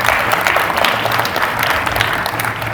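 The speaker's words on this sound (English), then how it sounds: "Let's give applause for that." Steady, dense audience applause fills a talk session at the Licensing Expo, loud and continuous for a few seconds with no voices over it.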